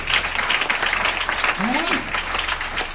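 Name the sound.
audience clapping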